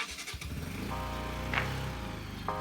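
A Pulsar NS200 motorcycle engine runs steadily up close on a ride through Upper Mustang, a continuous throbbing hum that holds an even pitch for a couple of seconds with small swells.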